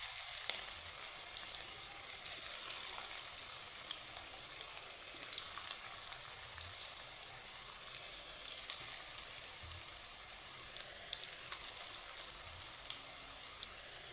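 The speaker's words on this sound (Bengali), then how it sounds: "এইভাবেই আমি পকোড়াগুলো তৈরি করে নেব।" Crispy cabbage pakoras frying in hot oil give a steady, close sizzling hiss scattered with fine crackles and pops, continuous and alone with no voices.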